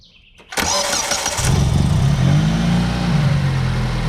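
A 1995 Mitsubishi's engine cranks briefly after a quiet moment, then catches and settles into a steady, loud idle close by, with no talking.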